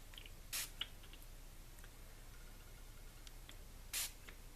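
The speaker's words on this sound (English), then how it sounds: "spraying this at the top pretty heavy and then dropping it down here" A sprayer puts short hissing bursts of fake blood paint onto a surface, two distinct sprays well apart with a few small clicks between, quiet and close against a low background hum.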